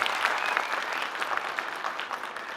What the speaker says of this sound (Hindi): जोरदार तालियों से कृपया इनका मनोबल बढ़ाइए।